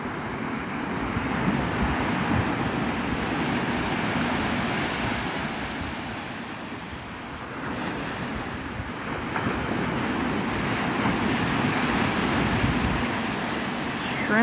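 Ocean surf at Navarre Beach, Florida, at sunrise, with continuous waves washing in and breaking in slow surges under wind rumble on the microphone and no talk, for about fourteen seconds.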